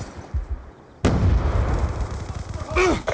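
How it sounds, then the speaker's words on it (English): A sudden loud grenade explosion bursts after a quiet moment on a Call of Duty: Black Ops II firing-range map, followed by a sustained roar of gunfire and battle noise close by. "Grenade!"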